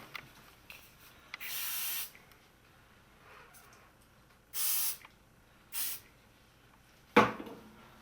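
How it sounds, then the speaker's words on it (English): An aerosol can sprays hair during an updo styling session, with three loud hissing bursts of about half a second to a second each, separated by quiet pauses, then a sharp clack at the end. "now I'm going to spray this part with an aerosol."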